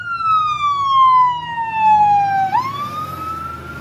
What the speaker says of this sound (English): This big ass fire truck's trying to come through.